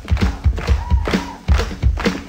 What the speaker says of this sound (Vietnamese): Vỗ tay mạnh lên.